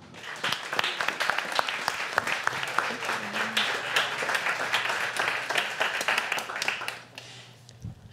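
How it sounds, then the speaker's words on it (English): A lecture audience applauds to welcome a speaker onstage, many hands clapping in a dense, lively patter that holds for several seconds, then drops off sharply near the end. "Please, a big round of applause for Tara Behrend."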